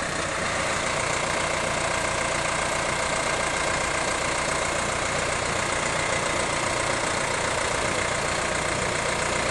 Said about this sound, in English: Just drive the tractor into the loader frame.